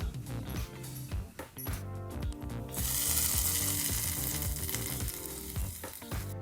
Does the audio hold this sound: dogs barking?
no